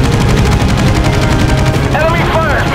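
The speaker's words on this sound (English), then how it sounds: "Enemy fire's being directed at us!" Enemy guns pound away in a naval battle video game, the rapid, loud bursts of machine-gun and cannon fire running nonstop, with a faint high whine rising near the end.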